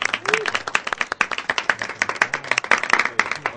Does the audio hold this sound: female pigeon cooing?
no